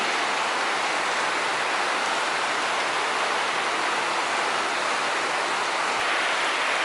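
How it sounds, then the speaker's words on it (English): Steady, dense rain pouring down in Vietnam, a constant hiss with no breaks, loud and close throughout. "Rain, rain, and more rain."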